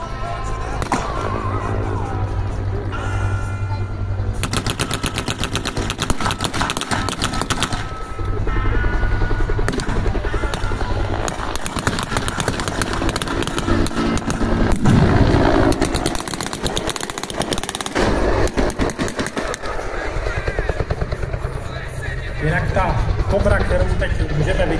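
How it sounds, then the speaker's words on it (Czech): Two-blade rotor helicopter, a Bell type, at the Pardubice air show, a continuous loud rotor and engine roar with rhythmic blade beating that swells and fades, heard beneath a commentator's ongoing narration. "ten zvuk dvoulistého rotoru, který je pro vrtulníky společnosti Belta charakteristický"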